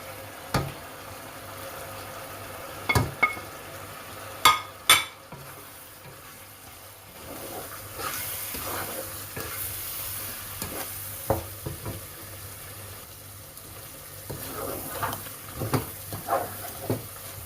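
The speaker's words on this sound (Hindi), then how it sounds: "अब इसको तकरीबन 10 से 15 मिनट और भूनेंगे, इसकी बुनाई करेंगे अच्छी तरह।" Laheem meat with spices frying in a pot, a soft sizzle under sharp metallic knocks and scrapes of a spoon against the pot, several in quick succession, near and fairly loud, no talking.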